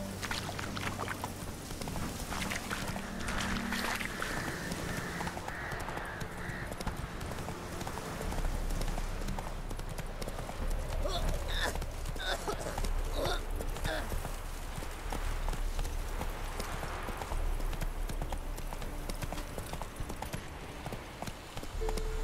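Horse hooves clip-clop at a steady trotting rhythm in a video game, with background music and ambient sound running under them for the whole stretch.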